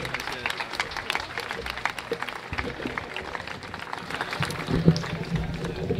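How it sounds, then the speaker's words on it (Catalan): An audience at a public talk breaks into steady, dense applause that runs the full length, with many hands clapping at a moderate distance and a few voices faintly beneath. "Un fort aplaudiment pel company Bai"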